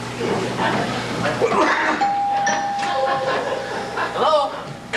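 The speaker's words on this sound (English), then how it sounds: "That's the doorbell" A doorbell rings once with a single sustained tone at a stage play, set among people speaking and some chuckling in a hall.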